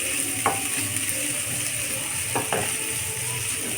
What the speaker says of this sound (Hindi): प्याज को ऐसे ही चला चला कर फ्राई कर लेंगे